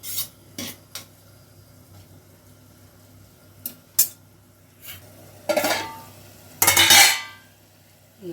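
A spoon scrapes and knocks against a pot while cooked rice is stirred, a few scattered light taps leading into two louder rasping scrapes near the end, close and without talk.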